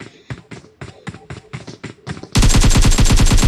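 An AKM rifle fires in a video game, a few sharp spaced single shots followed by a loud rapid sustained burst of automatic fire, close and dominant.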